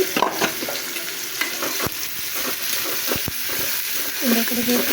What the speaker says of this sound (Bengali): আমি ভেজে নেবো পেঁয়াজটা